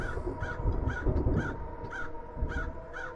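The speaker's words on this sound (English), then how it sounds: "those crows are just cawing to caw" Crows in a video game caw in a regular series of about seven calls, evenly spaced over a low steady background hum, moderately near and no talking.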